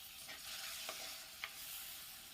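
Bitter gourd sautés in a pan with a quiet, steady sizzle, and a couple of soft stirring clicks stand out faintly; no one speaks.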